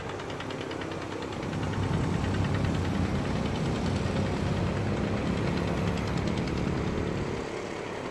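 Engine drone of fishing boats heading out to sea off Ulee Lheue, Banda Aceh, a steady rumbling hum that swells slightly midway and continues unbroken.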